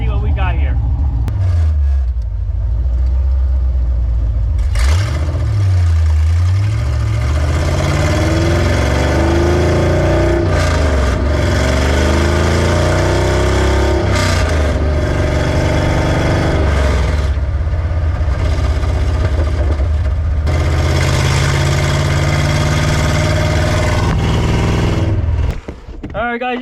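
Ford Mustang with an LS V8 engine and Holley Terminator X tuning, heard from inside while driving: loud, continuous engine drone with repeated revs and climbs in pitch through gear changes, with speech in places.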